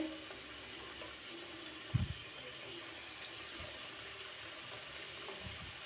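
Phuchka puris fry in hot oil with a faint, steady sizzle and soft crackle, punctuated by a brief splash-like burst as one drops in, fairly quiet and without talk.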